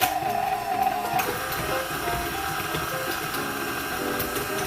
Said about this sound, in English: My KitchenAid is on 2.